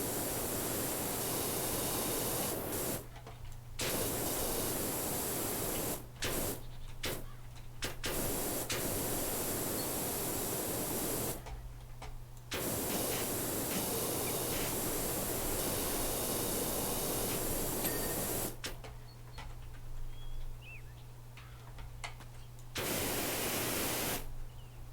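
A pressure washer sprays in Power Wash Simulator, a loud hissing jet that runs in long bursts and cuts off sharply several times, with a low hum persisting through the gaps and no talking.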